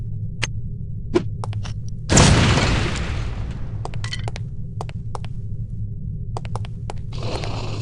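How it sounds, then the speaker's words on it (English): A lipstick-shaped explosive detonates on impact in the video game No One Lives Forever, giving one loud booming blast that decays into a long rumble, with sparse sharp game clicks and pings around it. "these relatively inconspicuous-looking lipsticks are actually powerful explosive devices that detonate on impact"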